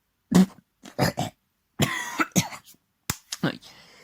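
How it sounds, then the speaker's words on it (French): Several bursts of harsh coughing and throat clearing from one person, loud and close, spaced with short pauses across a few seconds, with no other talk. "excusez-moi de ma toux"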